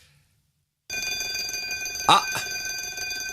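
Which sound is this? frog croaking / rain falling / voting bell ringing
voting bell ringing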